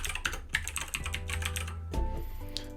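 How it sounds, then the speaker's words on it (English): A password is typed on a computer keyboard, with quick close clicking keystrokes in an uneven run and a heavier key press near the end, no voices. "I'm just going to type in password."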